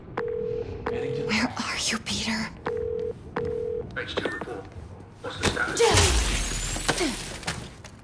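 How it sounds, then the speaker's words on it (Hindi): A phone call rings out unanswered in Marvel's Spider-Man 2: a repeated tone pulses in short regular bursts, then gives way to a loud crash and rumbling game action. "तो पीटर फोन नहीं उठा रहा"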